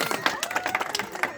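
A crowd of children at a street magic show clapping on request, a brief ragged burst of applause with voices mixed in.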